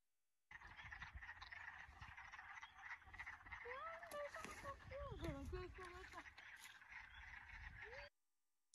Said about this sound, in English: there are a couple of frogs in here